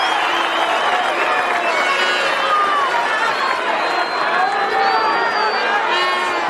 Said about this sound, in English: this crowd have started to discover their voices